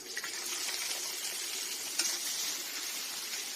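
Onions frying lightly in a pan for a prawn dish, a soft, steady sizzle close by with a small clink partway through.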